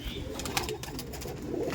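Pigeons in a loft give a short burst of soft cooing and rustling, close and fairly quiet against a busy background.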